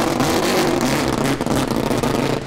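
Loud, steady engine roar from the BMI Quadrotor Mazda RX-8 rotary car as it starts and revs at the SEMA 2009 show, a continuous close drone with slight fluctuations and no talk.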